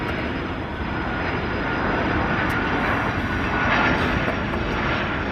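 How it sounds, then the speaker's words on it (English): An airplane flies overhead with a loud, steady engine roar, a broad sustained drone that holds its level throughout and swells slightly toward the end, with no voices. "now I got this airplane interrupting my video"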